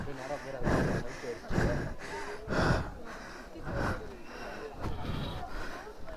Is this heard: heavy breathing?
yes